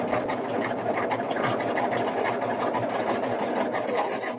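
A pedal-operated sewing machine stitching a quilt block runs steadily and fairly close for the whole stretch, a continuous busy whir with a fast mechanical rhythm and no pauses.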